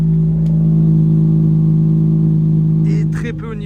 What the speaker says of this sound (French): on entend bien que toutes les gaz d'échappement sortent au niveau de l'échappement